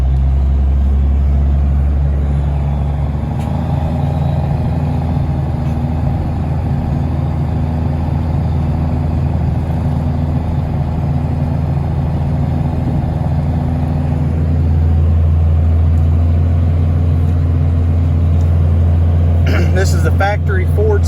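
A Cummins-swapped Ford pickup pulls away towing a load of hay on wet grass, its diesel engine rumbling loud and steady with a deep low drone that swells and holds as it moves off, a short metallic rattle near the end.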